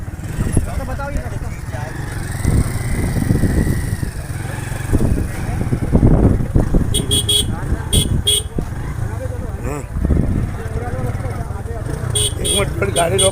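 A vehicle engine idles and creeps slowly forward, a steady low rumble with occasional horn-like tones, while several people talk and call out over it.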